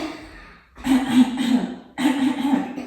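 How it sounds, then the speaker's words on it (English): Two deliberate coughs, each a forceful voiced burst trailing off, about a second apart, close to the listener. "Take a breath in. And as you breathe out, cough."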